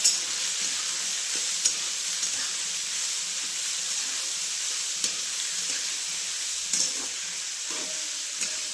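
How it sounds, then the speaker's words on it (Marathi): Onions frying in a pan sizzle with a steady, bright hiss throughout, with occasional soft clicks and knocks of stirring. "कांद्याची चांगला भाजून घ्यायचा व्यवस्थित लाल होईपर्यंत"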